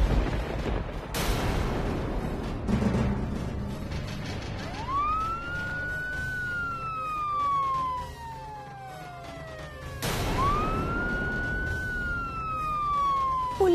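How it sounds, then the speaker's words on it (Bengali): A police car siren wails in rising and falling sweeps, sounding twice in repeated bursts over a steady mechanical background with no talk. "পুলিশের গাড়ির আওয়াজ পেলাম।"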